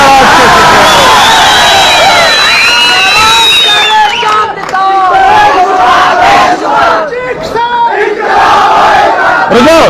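A dense crowd at a political rally in Doda for leader Meharaj Malik roars with loud shouting and cheering, voices rising in waves throughout, with chanting and babble close by.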